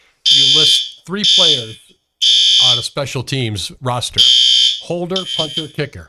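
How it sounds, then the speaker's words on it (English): A fire alarm goes off in a TV studio, loud, piercing electronic beeps pulsing in long repeated bursts while people keep talking over it. "that's a fire alarm going off because our talk is so high"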